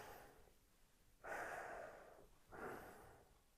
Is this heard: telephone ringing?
no